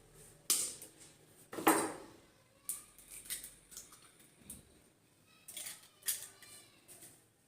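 Two eggs crack into cake batter, making sharp, faint clicks and taps of shell against a bowl. A few crisp knocks are spaced apart, followed by lighter clatter, with no talking.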